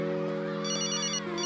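A telephone rings with a bright, electronic tone repeating in short pulses, close and clear over a steady low hum.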